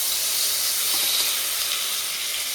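Fish frying in plenty of oil makes a steady, dense sizzle with a hissing, steamy texture, close and continuous with no voice.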